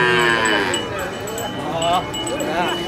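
Cattle, including a calf from Situbondo, low and moo repeatedly at a busy livestock market in Besuki. The calls are close and drawn-out over a soft background murmur of the crowd.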